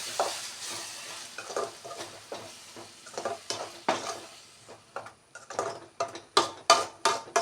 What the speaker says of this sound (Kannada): ಈಗ ಇದಿಷ್ಟು ಫ್ರೈ ಆದಮೇಲೆ ಟೊಮೆಟೊ ಪ್ಯೂರಿಯನ್ನು ಹಾಕ್ತಾ ಇದ್ದೇನೆ.